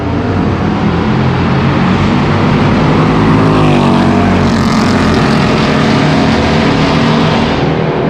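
A McLaren 570S supercar on a race track during a track session, its engine roaring loud and continuous, the pitch rising and falling as it passes close by.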